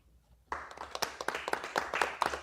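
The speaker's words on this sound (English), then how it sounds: "when she places the rest of the deck on top, I just want everybody to clap." A small audience at a live wine bar and art gallery show claps after a card trick, a brief scattering of hand claps starting suddenly and continuing at moderate loudness for a couple of seconds.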